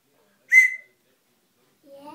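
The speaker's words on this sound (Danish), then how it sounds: "Det er spændende, om det bliver til en fløjte." A homemade wooden whistle blown outdoors at Hjerl Hede in summer gives one short, shrill blast, then a couple of faint, softer tones after a pause.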